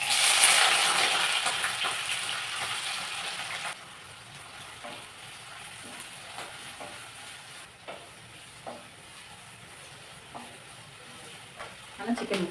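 Chicken pieces are stirred in a pan for curry, starting with a loud sizzle that soon drops to a quieter frying hiss, with intermittent scraping stirs and a few knocks near the end.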